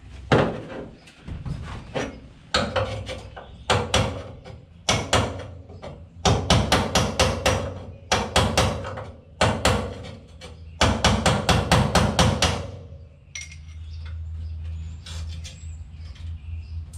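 Fiberglass resin being knocked off the right-hand floor of a 1955 Chevy four-door, heard as bursts of sharp, rapid hammering strikes in uneven clusters, close and loud, ending in a low hum.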